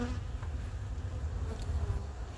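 Steady low insect hum of many honeybees buzzing together in a queen bank in January, a continuous close drone with no voices.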